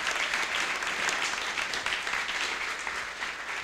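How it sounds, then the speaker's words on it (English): Sustained audience applause at a car enthusiast gathering, a dense steady wash of clapping from a seated crowd that holds evenly and begins to thin slightly near the end. "So one more round of applause for Jonathan."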